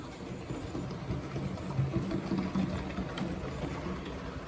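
A Dean Goods model locomotive from Oxford Rail runs along its track, giving a steady low electric motor whir with a faint rattle, quiet and continuous with nobody speaking.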